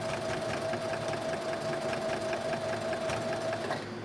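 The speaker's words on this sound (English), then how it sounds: "I really encourage you to slow your machine down, to go nice and slow, and follow that seam all the way along" A sewing machine runs steadily along a dress seam, its fast even stitching hum and rhythmic clatter close and continuous, easing off just at the end.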